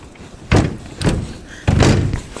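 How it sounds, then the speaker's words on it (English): A hotel room door in Barbados being worked open, with three separate thuds and knocks spread over a couple of seconds, close and fairly loud, over low room hiss and no talking. "Let me first figure out how to open the door."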